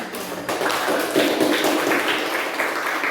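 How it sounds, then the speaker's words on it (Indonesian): A classroom group gives a round of clapping for a presenting team, dense hand claps starting abruptly and holding steady and fairly loud for a few seconds with no talking over it. "Oke, tepuk tangan untuk kelompok."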